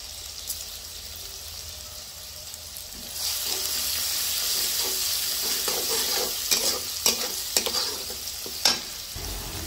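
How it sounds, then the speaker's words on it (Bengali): Whole cumin seeds frying in oil with crushed garlic, a steady crackling sizzle that grows louder partway through, with sharp scraping stirs near the end. "একটু নেড়ে চেড়ে এর মধ্যে দিয়ে দিব 1 টেবিল চামচ আস্ত জিরা।"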